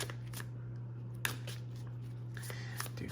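A deck of tarot cards is shuffled in a few short riffles and snaps over a quiet low hum, close and fairly soft, with no talking.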